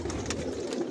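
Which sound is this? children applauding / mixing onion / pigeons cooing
pigeons cooing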